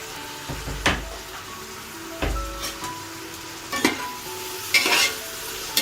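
Onion and mint leaves sautéing in a pan for ghee rice, with scraping stirring strokes and clinks of a utensil over a soft sizzle, a few sharper strokes standing out.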